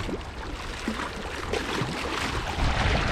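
On the shore of the Caspian Sea, waves churn and splash close by in a continuous rush while wind blows across the microphone. Brief gurgles of water rise out of the steady wash.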